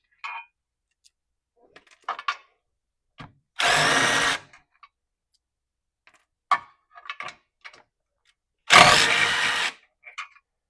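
A power tool runs in two short, loud bursts while backing out four washered bolts from the front differential of a 2025+ Kawasaki KRX 1000 UTV, with scattered clicks and handling noises between bursts in an otherwise quiet shop.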